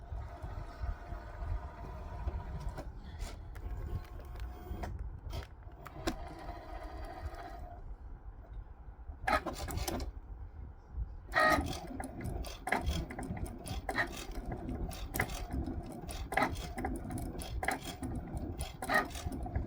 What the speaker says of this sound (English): we're going to click go and it's going to start cutting